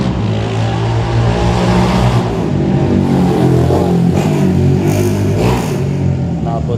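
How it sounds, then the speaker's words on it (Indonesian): A motorcycle with a racing exhaust rumbles and revs loudly nearby under a flyover in Bintaro, a sustained raspy engine drone with rising throttle bursts, mixed with some background chatter. "knalpot racing"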